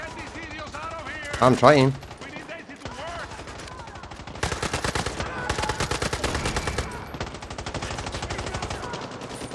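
Rapid machine-gun fire in the video game Far Cry 6, arriving in dense bursts of repeated shots that grow louder and continue through most of the stretch, with someone speaking briefly over it.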